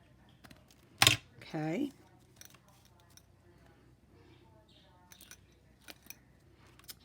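Scissors snip paper for a journal cover, a sharp close cut followed by a short rasping slice, then scattered faint ticks in a quiet room, with a brief spoken word.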